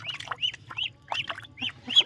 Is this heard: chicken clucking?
yes